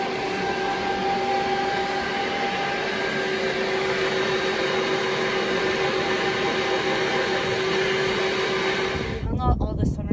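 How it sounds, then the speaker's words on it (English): A loud, steady motorized whir from a mixer blending seasonings and cure into summer sausage meat, running continuously with tonal hums before a brief clatter at the end. "Right now we're mixing the seasonings and the cure for the summer sausage that we made."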